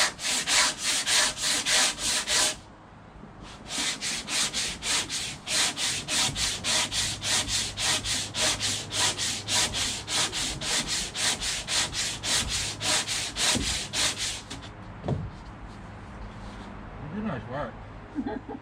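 A Flexisander power sander grinds fairing compound on a power catamaran build steadily in long rasping bursts with a short pause, loud and close, then cuts out as voices talk over the quieter tail.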